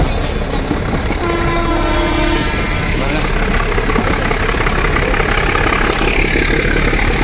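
Diesel engine hauling the Ooty Nilgiri mountain train, loud continuous rumble and clatter of the moving train, close and steady throughout, with a brief horn-like tone early on.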